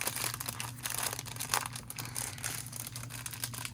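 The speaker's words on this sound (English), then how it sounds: "Sorry for the crinkling." Plastic packaging crinkles and rustles steadily at close range as a sequins mix is packed into a box for a Valentine craft swap, with a brief louder crunch partway through and no talking.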